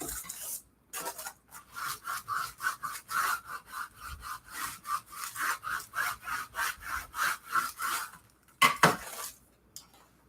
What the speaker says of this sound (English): We're scraping and we're scraping it.